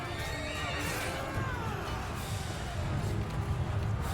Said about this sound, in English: See the horses in the distance.